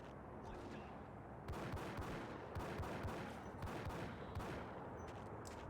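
Gunfire in the video game Max Payne: a run of sharp shots at intervals of about a second over a steady, noisy game background, with no talk.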